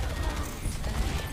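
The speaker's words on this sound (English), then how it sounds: "Bastion noises in slow motion" Mechanical whirring, clanking and ratcheting from the Bastion robot in the Overwatch video game, slowed down, a dense steady churn of gear-like noise with no talk.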